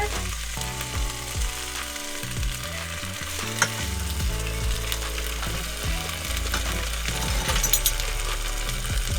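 Rosemary pork chops sizzle steadily in a pan as vinegar goes in, with scraping stirring and clattering utensil sounds over a constant frying hiss and a sharp clink midway.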